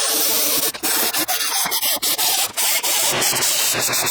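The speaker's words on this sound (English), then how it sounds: "Alright, so we got these all sanded" Metal subframe and A-arm parts for a wide-body BMW E30 are sanded with a power sander, a loud continuous abrasive rasp broken by short pauses as the sander lifts off, close up and with no talking.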